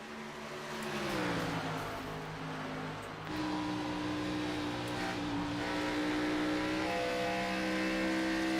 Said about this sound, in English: Drayton Cook might have a little bit of issue with that car